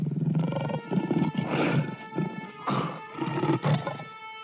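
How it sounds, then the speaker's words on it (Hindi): A lion roars in several loud, rumbling bursts that swell and fade over a few seconds, close and dominant with no talk over them. "ये तो शेर के दहाड़ने की आवाज है।"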